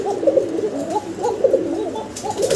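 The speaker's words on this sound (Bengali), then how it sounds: "মাশাআল্লাহ, ককার ডাক শোনাইলাম আপনাদেরকে" A male pigeon in a breeding pair coos close by in a series of soft, rolling throaty calls, repeated rhythmically with brief gaps, alone without talk.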